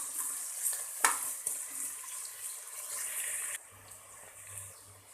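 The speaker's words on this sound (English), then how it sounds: "So just try to stir it well and let it fry nicely" Quiet sizzle of onions frying for mutton biryani, with occasional scrapes and clinks of a utensil stirring the pan.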